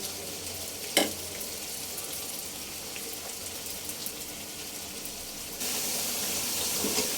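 Fish masala spices sizzling as they are sautéed in a pan, a steady broadband hiss with a brief sharp clatter near the start and a louder, fuller sizzle toward the end; no voices.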